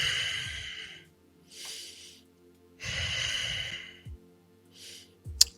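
Deep, drawn-out breaths taken while holding a yoga plank during an online body awareness class, several long hissing inhales and exhales alone in a quiet room, with a brief sharper puff near the end.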